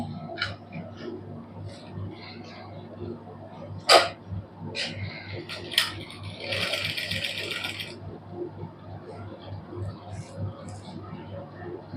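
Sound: sewing machine stitching lace onto a sleeve

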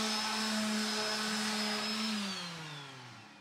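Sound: sanding wood edges with 40 grit sandpaper

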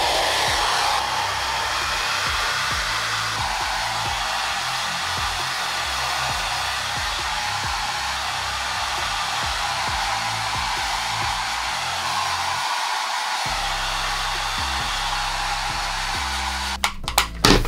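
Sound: hair dryer blowing hair

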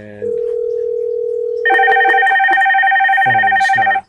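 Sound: Aastra office phone ringing from an auto dialer call

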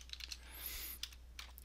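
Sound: typing on a computer keyboard

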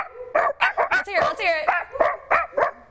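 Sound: voice imitating a barking dog

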